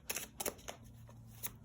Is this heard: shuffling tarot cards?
yes